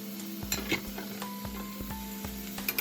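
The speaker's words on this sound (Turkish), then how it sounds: "Ardından kuşbaşı etleri ilave edelim." Diced meat sizzles steadily in a pot, close by, for a low-fat Turkish türlü vegetable stew, with occasional clinks and scrapes of stirring over the frying hiss.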